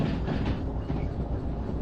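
Train hauled by two locomotives carrying 585 tonnes in the game Derail Valley, a continuous rolling rumble with rail clatter, steady and close with no voices.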